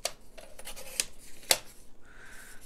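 Scissors snip through card paper in a few quick, close cuts, with a couple of sharper snips and light rustling of the paper between them; the sound is fairly quiet and there is no talk.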